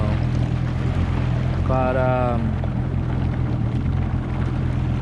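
A supercharged 2009 Yamaha FZR waverunner runs with pump cavitation, a loud continuous engine drone and rushing water throughout, with a voice briefly heard over it.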